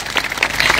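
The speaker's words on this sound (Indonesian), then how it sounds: "Beri tepuk tangan yang meriah." A church congregation claps together in a dense, lively burst of applause, fairly close and loud, filling the whole short moment.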